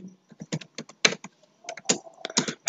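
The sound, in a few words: typing HTML code on a computer keyboard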